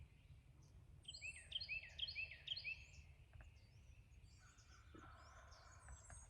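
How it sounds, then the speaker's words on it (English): A wild turkey gobbles from a distance from a tree, a quick run of rattling gobbles in the first few seconds, followed by faint chirps from other birds. "Turkey's gobbling good."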